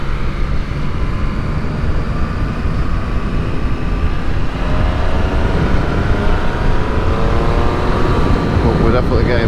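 A motorcycle rides along an open road over Woodhead Pass, its engine and rushing wind making a loud, steady roar throughout with no break.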